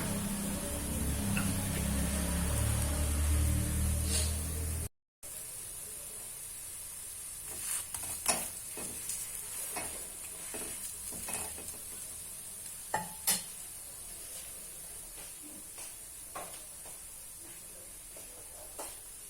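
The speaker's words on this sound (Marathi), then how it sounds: "याच्यावर जास्ती तेल लावून शॅलो फ्राय सारखा करतो आहे तो पराठा" A paratha shallow-fries with extra oil on an iron tawa, giving a steady close hiss with scattered crackles and ticks. A loud low rumble fills the first five seconds before a brief dropout, and no one speaks.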